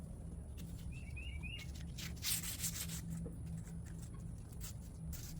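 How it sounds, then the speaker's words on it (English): Fine 400 or 600 grit sandpaper rubbed over weathered driftwood shaped into a wizard staff, a faint, steady scratchy hiss of continuous back-and-forth strokes with no talk, plus a brief high chirp early on. "I believe this was 400 or 600 grit sandpaper. That's just to smooth it out."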